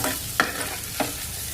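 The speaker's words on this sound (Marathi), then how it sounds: "ते चांगलं ब्राऊन होईपर्यंत त्याला चांगलं परतून घ्यायचं" Onion-based vada masala sautéing in hot oil until browned for kat vada, a steady low sizzle broken by two distinct scraping stirs of a spatula in the pan.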